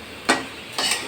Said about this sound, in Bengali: এবার এটাকে আমি ভালো করে নেড়ে